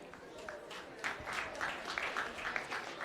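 A small group claps through a council meeting, a loose run of scattered hand claps at moderate distance, with voices talking underneath.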